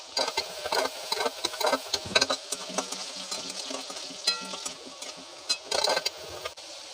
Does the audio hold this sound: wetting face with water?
no